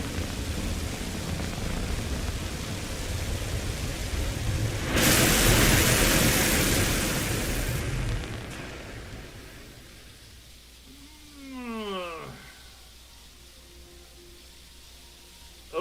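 A video game rocket lifts off in rain. A steady wash of rain builds into a loud, broad roar that lasts a few seconds, then fades to a soft rain hiss, while a rising whistling tone sweeps upward near the end.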